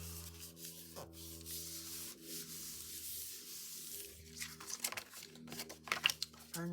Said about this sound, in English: Burnish this just a little bit.